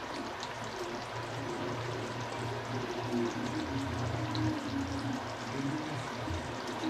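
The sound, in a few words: pouring ghee into dahi parwal gravy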